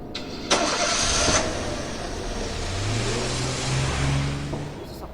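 Car engine starting in the horror video game Evil Nun: a sharp crank and catch, then a steady idling hum that rises into a short rev, heard alone without talk.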